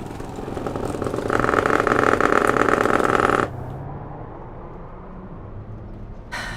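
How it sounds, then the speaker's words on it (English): A bus engine in The Bus driving simulator by TML Studios hums and rises under load, then drops abruptly to a quieter, steady idle rumble. "bus sounds fantastic"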